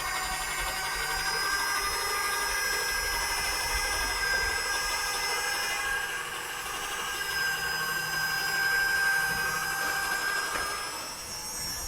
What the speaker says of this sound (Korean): 모터가 돌아가면 그냥 이제 돌릴 필요 없이 그냥 이렇게 놔두기만 해도 면이 이렇게 뽑아나옵니다